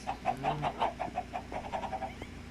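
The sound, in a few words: chickens clucking in a video game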